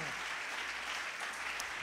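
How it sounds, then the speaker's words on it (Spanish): A church congregation at a revival service applauds in praise of Christ, a soft, even wash of many hands clapping at a distance, with voices faintly mixed in. "Dele un fuerte aplauso a Cristo Jesús."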